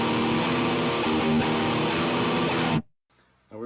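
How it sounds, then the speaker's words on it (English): HM-2 chainsaw distortion guitar on the unfiltered low-end path, a thick, loud, fuzzy sustained chord ringing for under three seconds, then cutting to near silence before a brief quiet sound returns. "This is it completely unfiltered."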